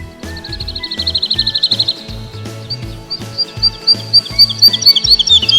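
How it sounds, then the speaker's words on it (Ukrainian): Skylarks sing a rapid, high trilling song in quick bursts, heard over soft background music. "У квітні прилітають жайворонки."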